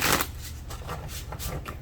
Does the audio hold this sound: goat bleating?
no